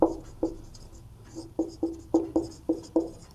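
Chalk or marker writing on a classroom board during a maths lesson makes a series of sharp, scratchy taps and short strokes in an uneven rhythm, close and clear with no talking.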